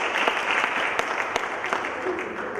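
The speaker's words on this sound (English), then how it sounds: "So give even Perry County a great round of applause." A room of parents and teachers at a school district advisory meeting claps for Perry County, a brief patter of applause from a modest crowd with a few sharper individual claps standing out.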